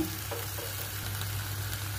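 Steady sizzling of pork grilling in a pan, a continuous crackling hiss with a low hum underneath, no voices.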